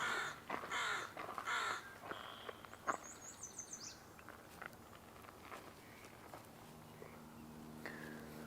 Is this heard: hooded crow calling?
yes